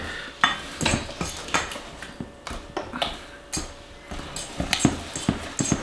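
A utensil scrapes and clinks against a bowl while stirring thick pecan pie filling with brown butter and bourbon, with irregular close taps and scrapes throughout and no talking.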